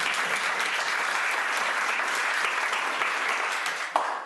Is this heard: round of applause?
yes